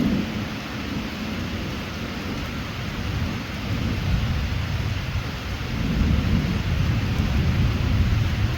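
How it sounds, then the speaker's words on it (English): Steady rain pours down during a morning storm, a dense continuous hiss with low rumbling swells that may be thunder, holding at a fairly loud, even level throughout. "It's even raining again this morning"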